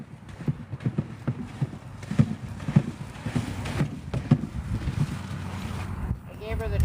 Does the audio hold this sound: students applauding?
no